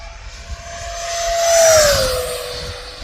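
A radio-controlled model jet makes a full-throttle speed pass, its turbine whine rising loud and close as it flies by and then fading away, with no voices.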